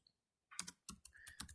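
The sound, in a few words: typing on a computer keyboard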